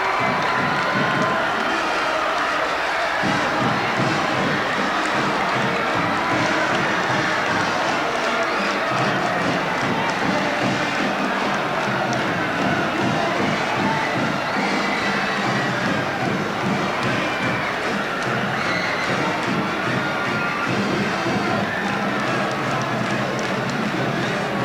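A packed high school basketball crowd roars and cheers after a game-winning buzzer-beater, loud, dense and sustained for the whole stretch, with shouting and stomping mixed into the din.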